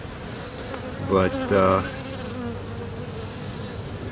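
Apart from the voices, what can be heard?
honey bees buzzing on hive frame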